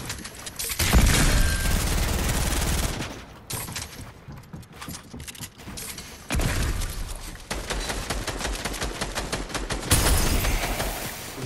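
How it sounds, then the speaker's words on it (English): Gunfire in Fortnite Battle Royale during a fight: loud, dense bursts of shots in two long stretches separated by a quieter gap, with sharp impacts and clattering debris mixed in. "somebody else shooting"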